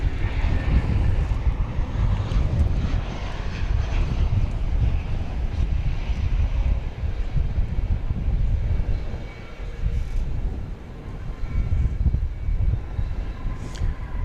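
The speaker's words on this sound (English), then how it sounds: "An Airbus A321neo coming at us from El Paso, Texas." An Airbus A321neo airliner approaches DFW Airport, its engines a broad, low rumbling roar that holds fairly steady across the whole clip, mixed with some wind buffeting on the microphone and no talk.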